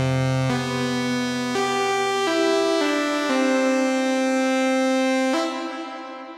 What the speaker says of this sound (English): This is the reverb here.